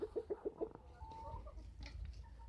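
Chickens cluck outdoors in a village yard, a quick run of five rhythmic clucks up close followed by softer scattered calls and rustling.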